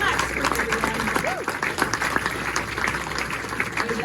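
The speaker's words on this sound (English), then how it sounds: "Let's have a big round of applause for your third place today, Max." Applause from an audience at a press conference honoring a third-place finisher, steady dense clapping of moderate loudness with a voice speaking over it.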